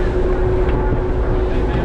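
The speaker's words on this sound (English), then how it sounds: "It's a bit windy at the moment, but the wind is backing off" Steady southeasterly wind buffeting a microphone, a constant low rumble with a faint steady tone running through it, continuous for the whole stretch.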